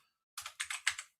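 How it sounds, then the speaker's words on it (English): A computer keyboard is typed on with a short burst of about six crisp keystrokes after a moment of silence, close and fairly quiet. "you can also just type it in"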